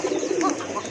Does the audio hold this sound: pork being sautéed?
no